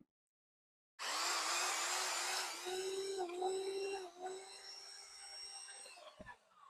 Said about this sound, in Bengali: আপনার ডিল মেশিন, এটা হচ্ছে আপনার 26 ডিল মেশিন, ঠিক আছে, 26 আর 28 ডিল মেশিন। এটা আপনি স্পিড দেখেন